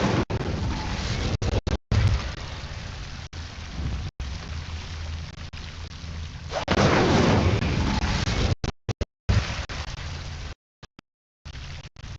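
The Incendio fire spell in Hogwarts Legacy roars out as dense, crackling fiery bursts that rise and fall over several seconds, broken by abrupt silent dropouts near the end.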